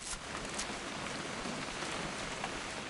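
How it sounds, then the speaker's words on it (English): Rain patters steadily in the video game What Remains of Edith Finch, a quiet, even hiss of drops with no voices. "It's gonna rain the whole weekend, isn't it?"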